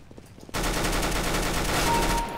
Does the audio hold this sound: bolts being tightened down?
no